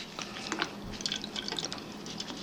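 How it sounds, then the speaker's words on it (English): Isopropyl alcohol is poured over a freshly printed resin part to rinse it. Light, close splashing and scattered drips trickle steadily throughout. "I'll just rinse it with some isopropyl alcohol"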